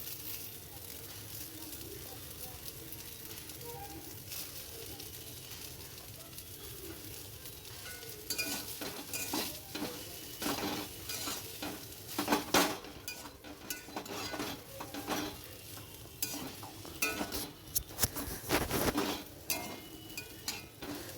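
Chowmein stirred and mixed a little at a time in a pan, with a low sizzle at first, then busy scraping and clinking of a utensil against metal growing louder and more frequent in the second half, close by.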